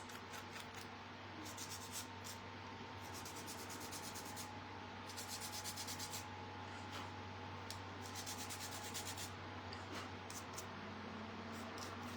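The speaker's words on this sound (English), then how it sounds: "So just be really careful if you're sanding." Sandpaper rubbed by hand over a thin shamrock craft piece, repeated short scratchy strokes in irregular bursts, quiet and close over a low steady hum.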